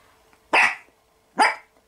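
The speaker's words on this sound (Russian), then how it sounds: "На пылесос лает." A dog barks at a running vacuum cleaner during home cleaning, giving two sharp, loud barks about a second apart with a quiet pause between them, and no one speaks.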